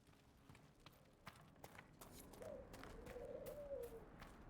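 Horse hooves clip-clop in a Dragon Age Inquisition game scene, a faint, steady run of hoofbeats with soft ambient bird-like calls rising near the end.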